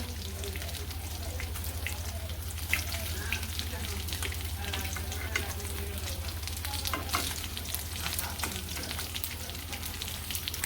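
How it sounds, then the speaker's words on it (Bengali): Fish fries crisp in hot oil with a continuous, bubbling sizzle held close and steady, with a low constant hum beneath and scattered sharp crackles. "তো কড়া করে ভাজি করলে আর কি মাছ ভাজিটা স্বাদ লাগে"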